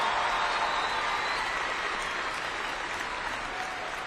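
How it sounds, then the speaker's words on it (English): Steady applause from a large audience at a high school graduation, dense and continuous clapping that holds at an even level throughout. "Can I hear a round of applause for this administration and the staff?"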